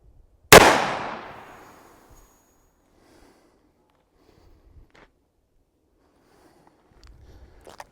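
A single sharp, loud gunshot from a .357 Magnum firing a 158-grain soft point at about 6 yards, its report decaying over a second or so, then near-silence with faint handling noises.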